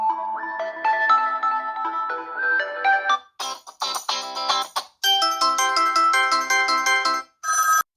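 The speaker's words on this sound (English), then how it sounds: "Stereo sound, as I said, standard ringtones, maximum volume" A loud Infinix Zero 30 5G smartphone plays standard ringtones in stereo at maximum volume, a bright melodic synth pattern switching through several tunes with brief gaps between them.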